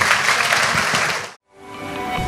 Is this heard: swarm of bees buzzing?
no